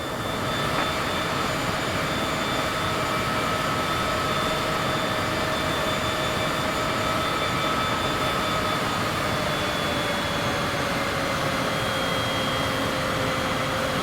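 A Cessna engine taxiing in Microsoft Flight Simulator drones steadily and loudly throughout, a continuous propeller-engine hum with a slowly shifting tone and no talk over it.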